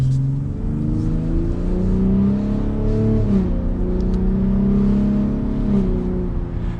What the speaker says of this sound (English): So let's test out the EcoBoost, getting up to speed in just basic automatic.